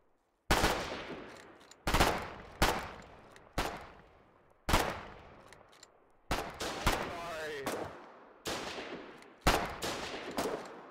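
Heavy gunfire in the war game Foxhole: about eight loud, sharp bursts and single shots at irregular intervals, each ringing out with a decaying echo. Faint voices can be heard underneath.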